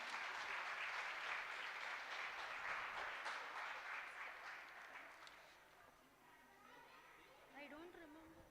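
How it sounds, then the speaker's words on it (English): Children and adults at a summer camp fun day clap in a lively round of applause that fades after about five seconds, leaving chatter and children's voices behind. "A big round of applause for these children."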